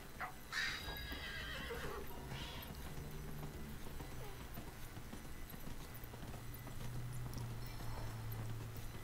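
Horse hooves clip-clopping along with loud whinnies from a mount in the fantasy video game Dragon Age: Inquisition, set over steady game ambience and a low music drone, with faint voices briefly in the background.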